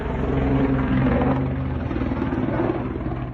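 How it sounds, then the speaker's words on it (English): Two Navy helicopters fly together during a rehearsal in Malaysia, their rotors and engines making a loud, steady, throbbing rumble that holds throughout with no talk over it. "Two Navy helicopters were taking part in a rehearsal in Malaysia when they suddenly collided mid-air"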